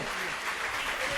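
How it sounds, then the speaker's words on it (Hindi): Loud, dense applause from an audience at a Jain devotional discourse, a continuous wash of clapping that fills the whole moment up close with no voice over it. "एक बार जोरदार तालियों से अनुमोदना करें बंधुओं"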